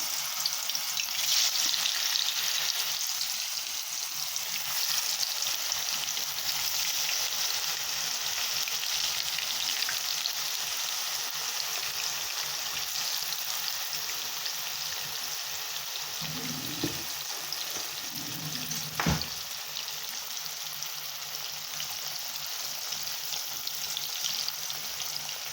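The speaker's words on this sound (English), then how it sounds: "the oil is hot and I'm about to brown my meat" Pork belly browning in hot oil for Jamaican brown stew, a steady close hiss and crackle that carries on throughout, with a couple of brief knocks near the end and no talk.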